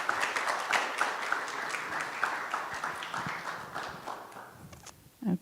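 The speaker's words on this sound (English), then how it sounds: "Okay, another round of applause for Class 474." Steady applause from an audience at a guide dog school graduation ceremony, dense clapping that holds evenly and slowly tapers off near the end, with a muffled thump at the close.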